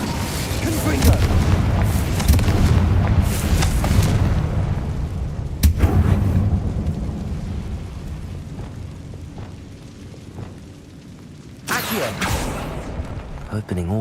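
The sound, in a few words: Confringo fire spell explosions in Hogwarts Legacy video game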